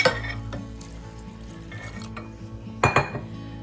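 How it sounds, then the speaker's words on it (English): A whisk works through broccoli cheddar potato soup in a pot, a close scraping and swishing under a low simmer, ending in a few quick metallic clinks against the pot. "We do it slowly like this while we whisk to try to not get lumps."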